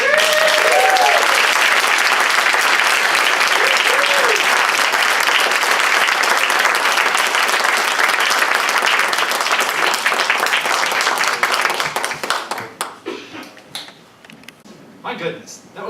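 Sustained applause from an assembly congregation fills the room loudly for about twelve seconds, with a few whoops rising over the clapping before it thins out and a voice begins speaking.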